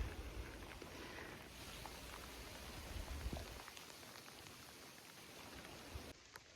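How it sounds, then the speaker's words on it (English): Steady rain in England patters on surfaces nearby, a soft continuous hiss with scattered drop impacts, fairly quiet and without voices. "The rain's definitely moved in."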